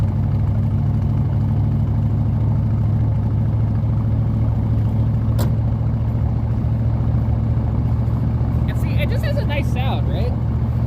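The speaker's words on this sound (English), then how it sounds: "I'm going to fire this one up. Let it idle for just a tiny bit." A warmed-up car engine idles steadily in a three-car garage, a constant low rumble holding throughout, with a brief sharper noise midway and faint chirps near the end.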